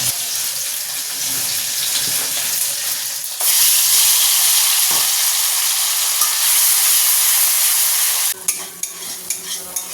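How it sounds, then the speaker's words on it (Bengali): Green chilli and tomato paste frying in oil in a pan, a loud close sizzle that jumps in intensity partway through as stirring continues, then ends with a few distinct clinks and knocks. "মশলাটা সুন্দরভাবে কষানো হয়ে গেছে"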